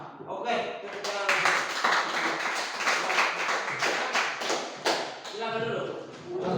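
A classroom of students claps in a steady burst of applause lasting several seconds, close and fairly loud, with voices heard at the start and end.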